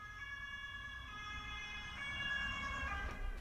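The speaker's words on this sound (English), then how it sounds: "Oh, it was the ambulance." An ambulance siren wails steadily and continuously, its tone holding loud and close throughout and swelling slightly toward the end, with a low rumble underneath and no talking.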